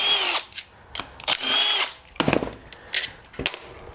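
A power tool spins off two bolts on a blown-up John Deere lawn tractor engine during teardown, giving short, sharp bursts of whirring and rattling with brief gaps between them.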